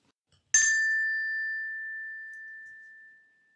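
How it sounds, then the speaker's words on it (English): A single clear bell ding rings out alone and decays slowly over about three seconds, a bright metallic tone marking a page turn in a children's audiobook. "Turn the page when you hear the bell."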